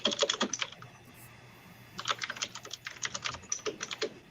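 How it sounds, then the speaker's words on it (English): Rapid keystrokes on a laptop computer keyboard come in two bursts of clicking with a short pause between, fairly close and moderately loud, with no talking. "I'll wait for the typing."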